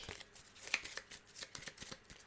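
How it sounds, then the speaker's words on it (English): A deck of playing cards is shuffled during a tabletop game, giving a soft run of quick riffling flicks and slaps at low volume with no speech. "We're going to shuffle our deck."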